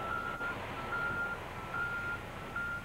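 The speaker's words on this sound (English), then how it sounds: "Trucks deliver the sludge to the landfill site where it is compacted." Trucks deliver sludge to an engineered landfill site in Berlin, New Hampshire, one sounding a reversing alarm: four evenly spaced, medium-length beeps over a low engine rumble and broad background noise, heard at some distance.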